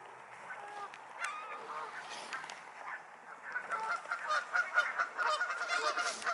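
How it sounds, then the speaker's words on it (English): Waterfowl on an island honk and call repeatedly, several birds overlapping, growing louder and busier toward the end against a quiet outdoor background. "There's those ducks. Look at them."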